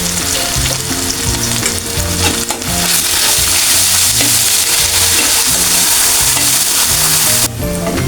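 Ground coriander, cumin, pepper and chili powder with salt frying in a pan, a loud steady sizzle with stirring scrapes under a repeating background music beat.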